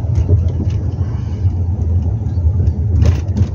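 A 2018 SUV accelerates away from a stoplight, a loud low engine rumble heard from inside the cabin, steady and throaty with slight swells.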